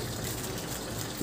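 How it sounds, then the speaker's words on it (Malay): Water squeezed by hand from an overly wet grafting medium used for air-layering a tree, a steady close trickling gush running throughout with no voices. "kita punya medium ni terlampau basah, kita boleh buang sedikit air dia dengan perah macam tu."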